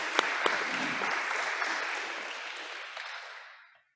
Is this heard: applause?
yes